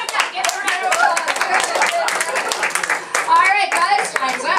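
A small audience at a summer 2017 improv monologue workshop at MCC gives a round of applause, brisk close-up clapping mixed with chatter and voices, some of them children's.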